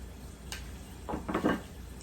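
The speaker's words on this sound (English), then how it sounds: "Let's add our shrimp back to the pan along with all of the juices." Shrimp and their juices slide back into a pan of garlic butter sauce with parsley, giving a brief, soft burst of sizzling and clatter in a quiet kitchen.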